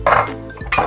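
Cashews tip into a pan of roasting almonds, giving two quick metallic clinks and rattles close up, with a short gap between them.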